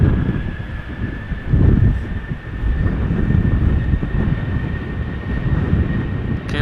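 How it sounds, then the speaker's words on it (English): A Boeing 737 lined up on the runway at Schiphol produces a steady, fairly loud engine rumble with a thin constant whine above it, mixed with wind buffeting. "We have another 737 lined up, ready to go."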